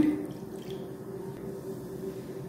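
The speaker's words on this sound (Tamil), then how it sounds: "நான் 1 டம்ளர் தண்ணி ஊற்றுறேன்." Water is poured from a tumbler into cooked lentils, giving a soft, steady trickle and splash that stays faint and close throughout, with no talking over it.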